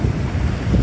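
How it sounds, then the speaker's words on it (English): Big ocean waves splash high on a beach, heard as a short, loud, rumbling wash of surf mixed with heavy wind buffeting the microphone. "So we have really nice big waves which are really splashing high."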